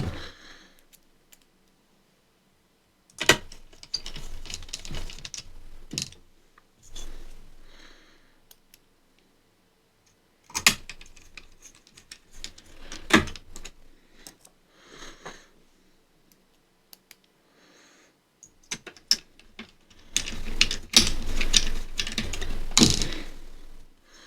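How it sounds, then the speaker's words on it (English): A screwdriver turns screws into an Asus X550JK laptop during a repair, making short bursts of close, small clicking and scraping with quiet gaps between turns. "I'll lightly screw them, and afterwards I will screw them till the end."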